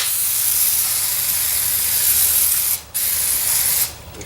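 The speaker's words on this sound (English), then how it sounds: "So what we're going to do is take our brake clean." Aerosol brake cleaner hisses steadily onto the brake rotor of a 2010 Silverado, a loud continuous spray with two short breaks near the end, no talking.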